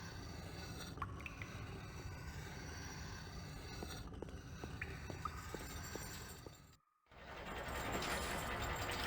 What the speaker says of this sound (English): where is the chain sound coming from?